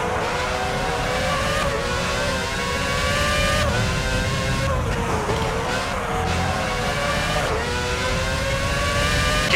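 Formula 1 race cars in the PS2 game F1 06 scream at high revs, engine notes rising and dropping through repeated gear shifts in a loud, continuous run without talk.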